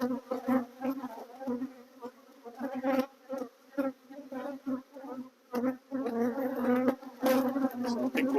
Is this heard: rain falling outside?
no